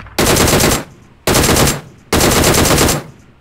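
Three loud, close AWM sniper rifle shots fire in PUBG Mobile, each a sharp blast with a booming tail lasting about half a second, evenly spaced, with no talking.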